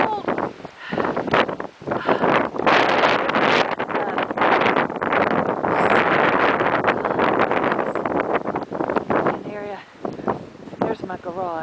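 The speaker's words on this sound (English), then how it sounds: "that's the wind blowing!" Strong, cold wind blows steadily the day after a blizzard, roaring and buffeting the microphone almost nonstop with gusty swells, while people talk over it.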